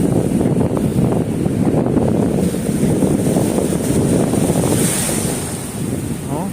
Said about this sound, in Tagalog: Uy, nag-ingay na naman yung alon.